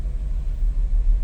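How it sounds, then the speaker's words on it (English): A 1964 Ford Thunderbird hardtop with a 390 V8 settles into a deep, low rumble right after firing up, heard close and steady with a slight swell in loudness. "And that's how you start the car. Fires right up."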